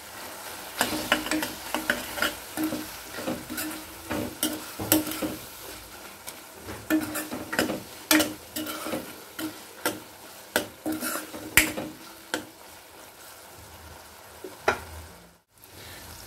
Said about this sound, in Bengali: 1 টিস্পুন মতো জিরের গুঁড়ো দিচ্ছি, 1 টিস্পুন মতো ধনের গুঁড়ো দিলাম। ভালো করে এবার মিশিয়ে দিতে হবে।